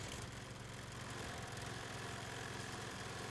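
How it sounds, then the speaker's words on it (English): A lawn mower engine in the Hello Neighbor video game drones steadily at mid pitch with a buzzy, vibrating hum, running continuously and fairly close with no talk over it. "I'm more just mowing the lawn."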